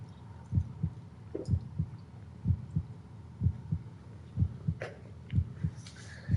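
A slow, steady heartbeat on a horror video game's title screen, with regular paired thumps repeating about once per second, low and throbbing, over a faint hum with no talking.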